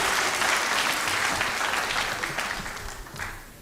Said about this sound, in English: Let's give it one more round of applause to everybody who made this possible